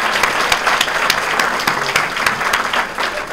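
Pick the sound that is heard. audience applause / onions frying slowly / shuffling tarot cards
audience applause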